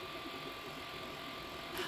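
A 3D printer printing a telescope eyepiece adapter gives off a faint, steady mechanical whir with soft ticking from its moving parts, continuous and close, with no voices.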